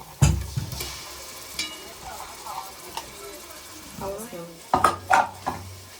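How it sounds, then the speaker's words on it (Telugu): Ginger and masala fry in a pan for a chicken curry, giving a soft sizzle with the scrape and clatter of a spoon stirring against the pan, close up, and a few louder knocks of metal. "ఇది కూడా వేపుకున్నాం కొంచెం పచ్చివాసన పోయే వరకు"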